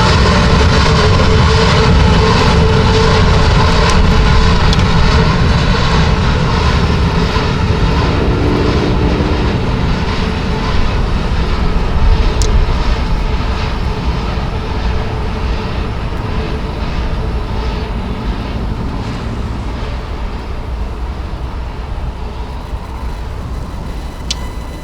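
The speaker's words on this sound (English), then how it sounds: "So we're going to be watching this consist going into the siding here." Heavy rumble of a New York and Atlantic freight train led by GP38-2 diesel locomotives easing into a siding, loud and sustained, with droning engine noise and rolling wagons fading slowly.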